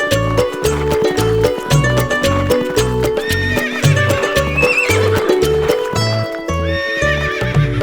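A horse neighs while hooves clip-clop in a fast, steady galloping rhythm, loud and close, over bright children's rhyme music.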